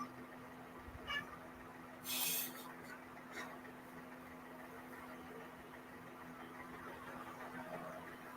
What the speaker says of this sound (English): That was Gandalf meowing if you heard him or hear him.